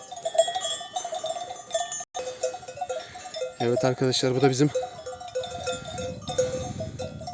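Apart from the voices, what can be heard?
flock of sheep with cowbells near water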